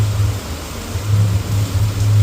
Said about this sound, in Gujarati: લઈને હજી આવ્યો માંડું ત્યાં તો જુઓ પાછો વરસાદ ચાલુ થઈ ગયો